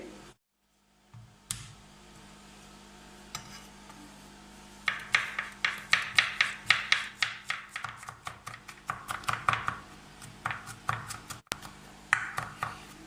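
A knife chops five garlic cloves on a board in quick, uneven bursts of sharp taps, close and clear, after a few isolated knocks at the start.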